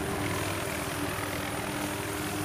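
A helicopter in the video game Battlefield 3 produces a continuous rotor and turbine drone at moderate level, steady throughout with no speech.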